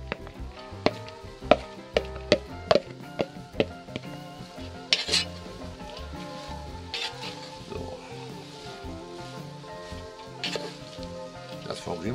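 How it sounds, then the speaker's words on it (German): Red cabbage with bay leaves going into a pot in a Dutch oven: clanks and metallic knocks of utensils on cookware, spaced scraping and a faint sizzle, close by and mostly without talk. "Jetzt kommt der Rotkohl inklusive Lorbeerblättern."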